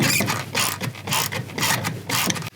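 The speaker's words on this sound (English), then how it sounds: "I'm gonna take my 8mm gear wrench" An 8mm gear wrench ratchets on a shock nut during a suspension lift install on a RAM 1500, clicking loudly and close in several quick bursts of rapid pawl ticks.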